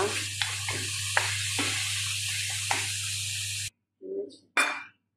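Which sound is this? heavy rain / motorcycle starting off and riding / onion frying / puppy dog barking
onion frying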